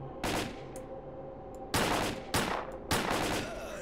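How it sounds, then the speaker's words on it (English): Bursts of rapid gunfire in the video game STALKER: Call of Pripyat erupt in three loud volleys, sharp and crackling, separated by short pauses with lingering noise. "I hear gunfire. I see gunfire."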